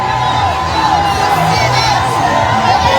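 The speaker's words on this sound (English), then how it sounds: "The crowd increases." A large crowd cheers and shouts in a steady, dense roar that stays loud throughout, with whoops rising above the wash of voices.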